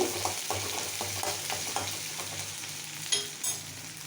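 Chopped onions and chillies sizzle in a hot pan for a cabbage poriyal, with a steady close crackle of frying and soft, regular scrapes from stirring.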